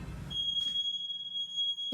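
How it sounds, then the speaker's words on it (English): A smoke alarm in a house gives one long, steady high-pitched electronic tone that holds for well over a second at moderate loudness, ending in a brief louder burst. "I'm gonna make the alarm sound."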